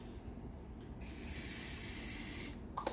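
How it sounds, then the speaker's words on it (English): Hairspray bursts from a can into a jar in a single continuous hiss lasting about a second and a half, close and fairly soft, ending with a small clink. "next let's add our hairspray"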